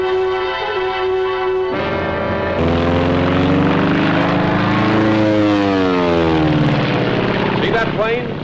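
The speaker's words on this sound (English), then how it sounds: "See that plane? Climbing to heaven like a skyrocket?" A Mitsubishi A6M3 Zero Model 32 fighter flies overhead, its loud propeller engine droning with a pitch that rises and sweeps down as it climbs past, a strong continuous roar.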